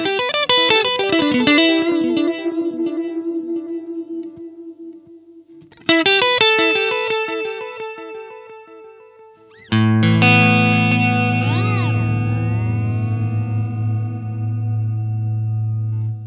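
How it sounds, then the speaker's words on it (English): Electric guitar through a Fender Mirror Image delay pedal in analog bucket brigade mode: phrases ring out through a warm delay, each note trailing soft repeats; a final sustained chord wobbles and smears as the echoes pitch-bend. "Mode 2 is analog mode, classic bucket brigade delay type."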